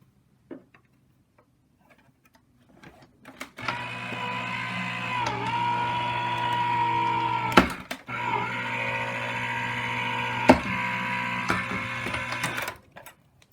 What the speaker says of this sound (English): So let's bring that over here and run it through the Vagabond.